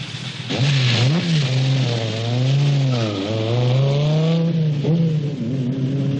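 A car engine revs hard and continuously, its pitch sweeping up and down through several surges, loud and close, with no talking over it.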